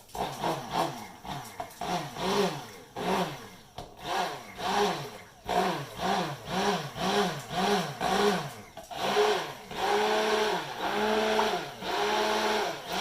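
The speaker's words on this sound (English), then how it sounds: "now that it's kind of mixed, we're going to start blending." Stick blender whirring in repeated pulses through a thick oil-and-water vanilla lotion mixture, close and steady, the pitch rising and falling with each stroke as the emulsion thickens.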